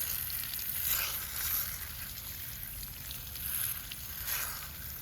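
Water running and splashing over a foam air filter being rinsed, a steady broad wash with gentle surges every second or so, fairly close and with no one talking.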